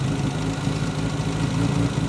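A 1960s Volvo 164 engine idles on its own with the choke off, a steady, close, slightly uneven running hum with a faint shake throughout.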